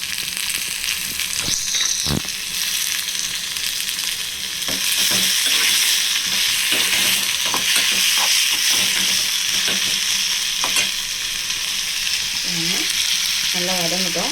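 One large onion sautéing in a pan after curry leaves have crackled, a loud continuous sizzle broken by repeated stirring scrapes and clicks, with a brief voice-like sound near the end.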